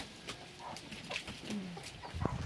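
A chicken clucks in short, scattered calls, fairly close, with a few louder squawks toward the end and no talking.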